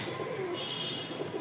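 Racing pigeons of the Rajshahi giribaz breed coo softly, a brief low rolling call repeated a couple of times at close range, with no voices.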